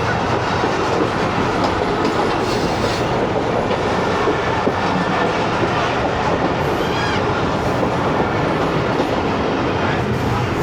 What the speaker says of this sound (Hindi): चीचा वतनी पर 115 मूसा पाक एक्सप्रेस भी पहुंच रही है।